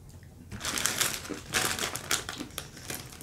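Someone chews hard-coated crunchy Canadian candy gum close to the mic, a run of sharp crackling crunches in uneven bursts after a brief quiet start.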